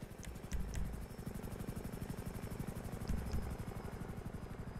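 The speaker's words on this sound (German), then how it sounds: "Warum fliegt er die ganze Zeit mit dem Heli?" A helicopter flies in a video game, its rotor thumping in a fast, even pulse that stays loud and close throughout, with a couple of brief higher clicks on top.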